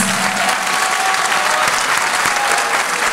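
Thick, continuous applause fills the hall from the audience at a Turkish classical music choir concert, steady and loud throughout with many hands blending into a dense wash.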